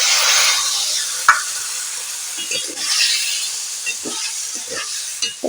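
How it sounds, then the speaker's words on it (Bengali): Spice masala for a rohu fish and mango curry stirred over very low heat, a soft steady hiss with intermittent scraping strokes and one sharp tap, close and moderately quiet. "এটা এখন আমি বেশ খানিক্ষণ নাড়তে থাকবো একদম অল্প আঁচে আমি এই মশলাটা নাড়ব"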